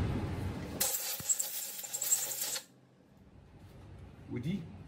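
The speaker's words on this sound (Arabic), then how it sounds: "لازم نستفيد وننظف المكان ده بالهواء كويس" Compressed air blows to clean a part of a thickness planer in a workshop, a loud close hiss lasting about two seconds, followed by quiet room noise and a brief faint sound at the end.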